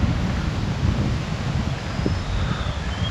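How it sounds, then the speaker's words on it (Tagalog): Strong wind buffets an unshielded lapel microphone at a campsite near Metro Manila, a loud, constant low roar with gusty swells and faint rustling, no voices. "Napakalakas ng hangin."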